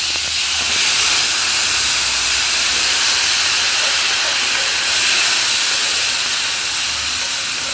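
Steam hisses loudly and steadily from a pot while fish and rice cook on a kitchen stove, a broad continuous rushing noise with slight swells and no voices over it.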